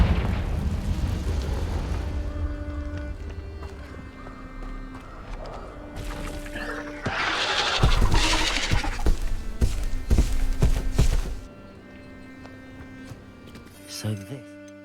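A Confringo blasting spell goes off in Hogwarts Legacy inside an Acromantula cave, a loud burst and rumble swelling over game music and lasting several seconds before fading.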